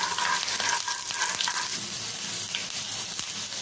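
Cumin, green chili, curry leaves and hing fry in a pan with a bright, continuous sizzle, joined by occasional spoon scrapes while the tempering is stirred.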